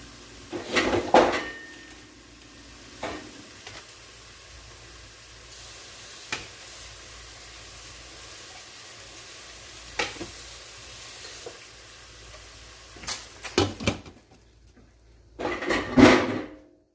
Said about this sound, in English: we're gonna let that stir fry a little bit, okay? And cover it up.